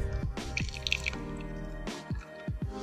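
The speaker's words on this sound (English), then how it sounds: "Hear the pressure building up now. Here we go. Look at that, already creme is coming out." Espresso drips and squishes out of a WACACO Nanopresso portable espresso maker as pressure builds, giving close, wet, irregular spurts and soft hand-pumping clicks with no talk.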